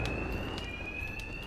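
Bank alarm ringing in Batman Arkham Knight, a steady high electronic tone held continuously over a dense background noise, with no speech.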